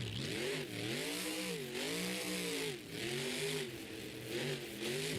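A monster truck engine revs hard and steadily while reversing at a Monster Jam Indy Series event in Lamar, its roaring pitch rising and falling in repeated swells with no break.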